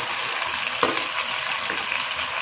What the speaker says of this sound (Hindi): सबसे पहले हम डालेंगे आलू और इनको हम फ्राई कर लेंगे